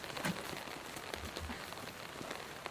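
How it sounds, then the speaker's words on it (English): Rain sound-effect track laid over other audio: a steady, even hiss of falling rain with scattered drop ticks, continuous at moderate level throughout and no talking. "they've just laid down a rain track over the top of it"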